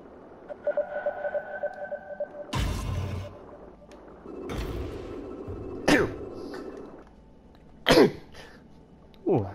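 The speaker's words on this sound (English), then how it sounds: "I did not mean to sneeze on you guys." A person sneezes loudly over quiet background game music, with several other sharp, noisy bursts spread across the stretch.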